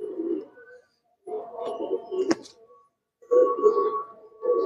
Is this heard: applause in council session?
no